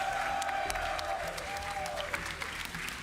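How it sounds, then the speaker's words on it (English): A large crowd applauds the winning Mouse Sports esports team at a tournament, dense continuous clapping with some cheering throughout. "Round of applause for Mouse Sports"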